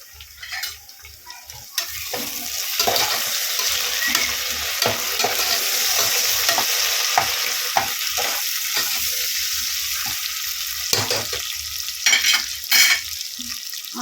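Onions sautéing in hot oil while a handful of mint and coriander is tossed in, a steady broadband sizzle with scraping stir strokes and a few sharper clatters, close and fairly loud, no voices.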